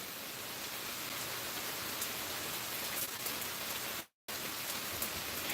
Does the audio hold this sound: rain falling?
yes